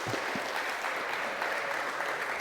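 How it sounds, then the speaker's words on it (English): An audience at a LAN gaming cup semifinal claps steadily for two players, a dense, moderately loud round of applause with no voices over it. "One final round of applause for our 2 players today."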